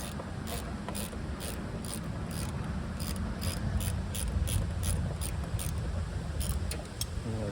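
A hand wrench ratchets steadily on a Lombardini diesel engine being swapped into a 1970s Sears Suburban tractor, its quick, evenly spaced clicks running in bursts over a low mechanical background hum.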